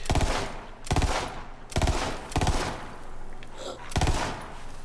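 Nemesis multi-element gun in Borderlands 3 fires five loud, close bursts of shots roughly a second apart, each with a crackling elemental tail. A voice talks faintly between them.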